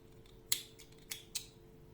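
Scissors snipping crochet yarn, three quick quiet metallic cuts close to the microphone against a faint steady hum.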